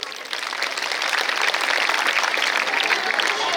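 Audience applause at a community gathering addressed by a social welfare officer, a dense, steady wash of clapping that swells in the first half second and holds evenly throughout.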